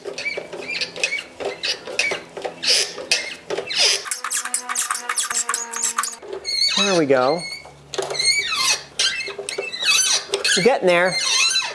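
A rusted exhaust bolt on a Porsche 911 3.2 Carrera squeaks loudly as it is worked loose, giving repeated rising and falling squeals among clicks of the tool. People talk over the noise.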